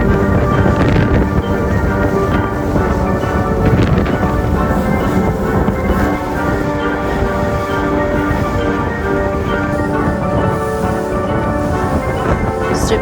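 Storm wind buffets and roars continuously around a small wooden longboat crossing open sea in Raja Ampat, Indonesia, a loud steady rush close to the microphone with no talking.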